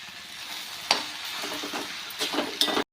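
Sliced okra with lemon juice and salt is stir-fried in a pan, giving a close, continuous sizzle broken by a few sharp spatula scrapes and knocks against the pan.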